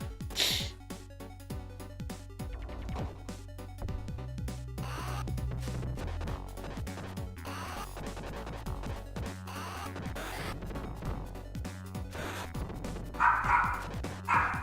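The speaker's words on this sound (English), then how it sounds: "there goes the dog" A dog barks and yips repeatedly in a home, the sounds echoing through an open bedroom door, mixed over retro video game music playing continuously.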